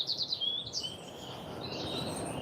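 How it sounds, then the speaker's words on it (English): Birds chirp and sing in quick high bursts on a cold morning walk at about minus one degree, the calls fairly clear at first, then fading into a soft outdoor hush. "Listen to the birds."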